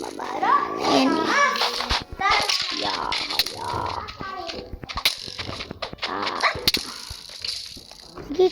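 Several dogs bark and yip in short bursts, close and loud, mixed with a child's chatter and squeals throughout.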